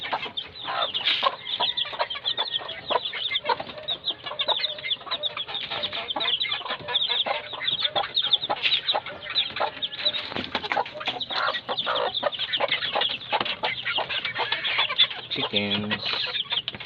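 A flock of young chickens clucking steadily at close range on a rooftop garden, overlapping short calls and some scratchy background noise throughout.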